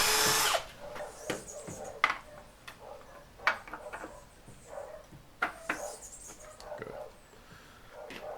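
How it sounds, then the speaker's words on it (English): A power drill whirs in short bursts with a bigger bit, boring a hole while building a foldable workbench, starting and stopping several times, with faint clicks and handling noise between runs. "now I'm gonna repeat it with the bigger drill"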